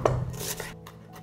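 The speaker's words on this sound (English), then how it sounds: "I chop tomatoes." A knife chops tomatoes, with one sharp cut at the start and then a short rasping scrape, close and fairly quiet.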